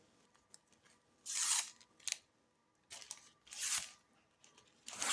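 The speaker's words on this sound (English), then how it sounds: "use the back of my scissors to curl the ribbon" Scissor blade rasps along gift ribbon to curl it in a few quick, breathy swipes, separated by short pauses and faint handling noises, close up with no talking.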